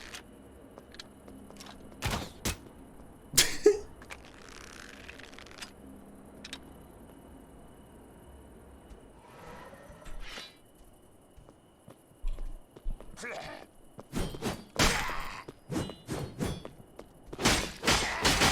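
Crossbow bolts in the Dungeonborne video game strike an enemy as a scattered series of sharp thuds and clicks, some in quick bursts, loud against a quiet background, with no talking.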